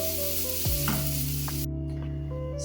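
Grated coconut roasting in a hot pan gives a brief, close sizzle with a light stirring scrape, alone without any voices.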